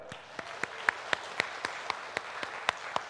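A church congregation clapping in unison during a Sunday worship service, a slow, regular beat of sharp claps, about four per second, evenly spaced over a faint room hum.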